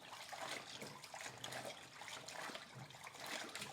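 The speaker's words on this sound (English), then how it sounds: "you see how I'm rinsing it like this. And doing this allows the water to flow over each of the leaves" Kale leaves are rinsed under a running tap, water splashing and trickling steadily over the leaves nearby for several seconds, with no talking.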